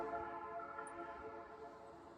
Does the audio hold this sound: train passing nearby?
yes